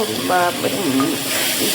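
Spice paste sizzling in hot oil with fried onions for a one-pot egg biryani, a steady close frying hiss with some stirring, while a voice talks over it.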